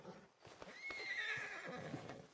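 A horse in Red Dead Redemption 2 whinnies in a long, wavering neigh, while hooves shuffle and clop softly around it and other game sounds stay low in the background.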